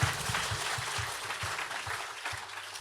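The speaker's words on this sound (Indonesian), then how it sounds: "Sekali lagi berikan tepuk tangan yang paling meriah untuk Raja di atas segala raja." A congregation at an Indonesian Easter church service claps in sustained, dense applause, with a faint low rhythmic pulse beneath the steady clapping.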